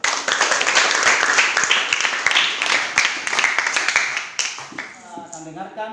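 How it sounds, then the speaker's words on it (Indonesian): Audience applause for a discussion group's presentation at a church gathering, a dense burst of clapping that fades over about five seconds before a voice begins speaking. "Kita beri aplaus dulu untuk kelompok 2."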